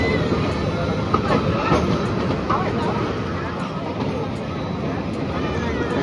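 An Egarosindur Provati Express train runs through the rain, a steady close rumble of wheels and carriage noise that holds evenly throughout with no break.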